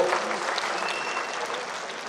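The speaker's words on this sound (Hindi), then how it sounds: "उनका भी तालियों के साथ स्वागत हो" Audience applause at a Hindi-language union function for film studio setting workers, a steady dense wash of clapping filling the room throughout, without speech over it.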